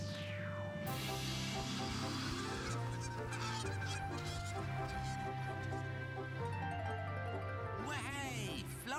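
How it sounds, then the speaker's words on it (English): A flock of geese honks repeatedly at close range as they set off migrating south, the calls layered over a busy, continuous cartoon soundtrack with a voice speaking briefly. "this flock of geese are about to take a long trip south to Florida"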